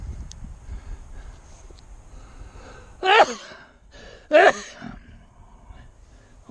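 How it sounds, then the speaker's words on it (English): Two short sharp sneezes burst out about a second apart against quiet outdoor background noise, with nothing spoken. "y'all needed to hear me sneeze"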